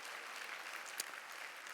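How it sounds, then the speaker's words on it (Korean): A church congregation applauds in praise, a steady wash of clapping hands that holds at an even level through the whole stretch, with one sharper clap standing out near the middle. "박수로 영광을 돌립니다."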